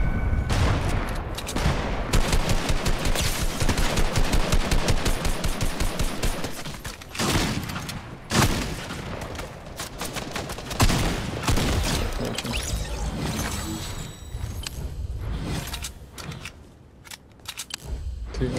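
Rapid bursts of gunfire in the video game Fortnite, with dense volleys of sharp shots packed together and some louder booms. They ease into sparser, scattered shots toward the end.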